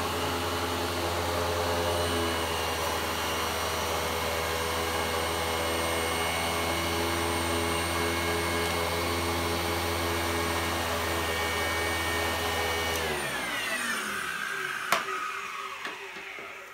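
Vacuum cleaner with worn bearings running loud and steady in a constant whine and roar, then switching off and winding down near the end, with no talking.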